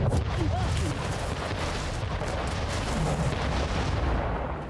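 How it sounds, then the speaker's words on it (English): Booming cannon blasts from ships in the video game Anno 1800 rumble continuously amid dense, noisy battle sounds, loud and close with no clear gaps between them. "Or shoot this cannon"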